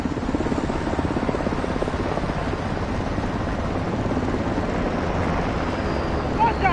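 Call of Duty Modern Warfare 2 helicopter, a loud, continuous rotor thump with a rapid, even chop and a roaring wash of engine and wind, close and constant throughout.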